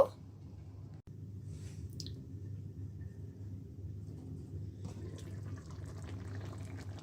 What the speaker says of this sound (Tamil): நல்லா எண்ணெய் பிறந்து நல்ல வடிவாக எங்களோட கருவாட்டு குழம்பு கொதிச்சு கொண்டு இருக்குது.